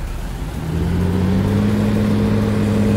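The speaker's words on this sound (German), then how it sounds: "Gas, ne? Das ist ein lauer Traktor." Tractor engine in a farming video game, a steady mid-pitched drone that rises and settles into a sustained rev, loud and close with no talk.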